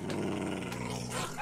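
Dogs growling in the video game Minecraft, a close, continuous rough snarl with rapid pulsing texture that holds steady for the moment.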